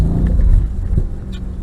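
A Mercedes-Benz car on a track, its engine giving a loud, close, steady rumbling drone with a slight shift in pitch partway through.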